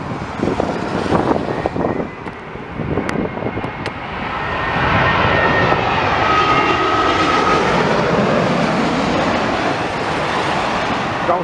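A Boeing 777 airliner flies past during Storm Eunice, a broad engine roar swelling and holding steady, heavily mixed with gusting wind noise from the outset.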